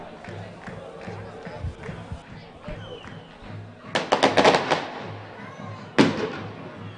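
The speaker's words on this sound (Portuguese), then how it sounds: "traz fogos de artifício também para soltar, com muito cuidado, evidentemente" Fans set off fireworks during a 2019 Rio de Janeiro state semifinal football match between America and Bonsucesso. A burst of rapid crackling pops rises over the stadium crowd's murmur, then a single sharp bang follows.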